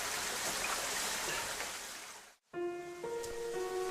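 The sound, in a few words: water flowing out of a cave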